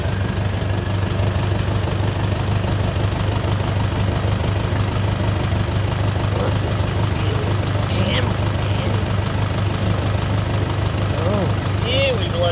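An Isuzu 5.2L 4HK1 diesel idles steadily after starting, a loud continuous low rumble with a faint knocking beat, while someone talks over it.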